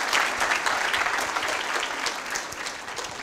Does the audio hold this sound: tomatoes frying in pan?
no